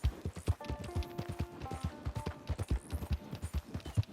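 Horse hooves galloping in the Red Dead Redemption 2 video game, a steady rapid drumming of clops under faint musical tones, fairly quiet and alone.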